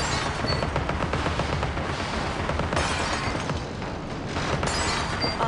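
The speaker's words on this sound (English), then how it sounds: "you cannot shoot the pepper grinder forever" Rapid, continuous firing from the pepper grinder weapon in Alice: Madness Returns, a dense, steady barrage of loud shots running throughout without pause.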